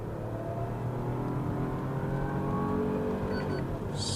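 An automatic car accelerates hard on a test drive, its engine giving a steady, loud, rising drone with road and wind noise, heard close from inside, and no talking.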